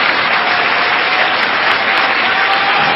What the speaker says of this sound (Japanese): その姿にどうやら今拍手が送られているようですが